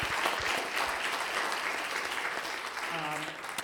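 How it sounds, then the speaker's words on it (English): A campus audience gives a round of applause to a speaker, a soft, steady patter of many hands heard from a distance, with a voice starting to speak near the end. "One more round of applause,"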